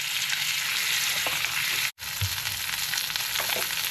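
Steak sizzles steadily in a hot pan, a dense continuous fry with small crackles, interrupted by a brief moment of silence midway before the loud sizzle resumes.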